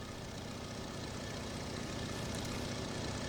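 A noisy propeller plane passes overhead in a farm-country setting, a steady broadband drone holding at constant level throughout with no voices.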